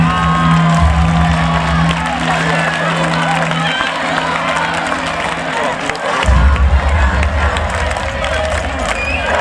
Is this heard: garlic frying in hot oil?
no